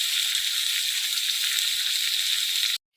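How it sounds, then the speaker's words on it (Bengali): Ginger and green chili paste fries in a pan for aloo dum, giving a bright, even sizzling hiss up close for a few seconds before cutting off abruptly. "এটা আমি কষছি"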